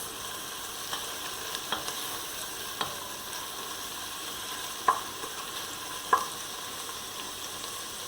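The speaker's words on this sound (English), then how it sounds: "And we're sauteing this for another minute." Seasonings sauté for Jamaican-style seasoned rice, with a continuous soft sizzle and a scattering of light utensil clicks, two of them sharper and louder.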